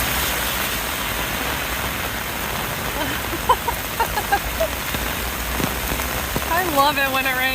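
Heavy rain falls hard in Tokyo, a loud, steady downpour hissing on surfaces, with an idling engine beneath and a few faint voices and tonal sounds near the end.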